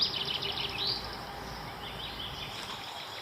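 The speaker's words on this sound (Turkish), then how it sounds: "Kuş cıvıltıları arasında." Birds chirping in a forest along a walking route, faint high tweets and calls over a steady outdoor hiss, with no one talking.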